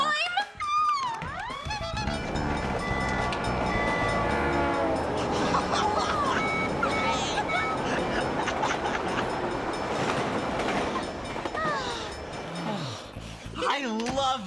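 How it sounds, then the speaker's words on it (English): A train rumbles past with rolling clatter, and its whistle blasts stand out above the steady mechanical roar as it passes. "I love the sound of trains!"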